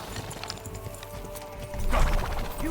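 Galloping horse hooves in the video game Kingdom Come: Deliverance II, a quick continuous clatter with a louder burst of movement near the end and no talk.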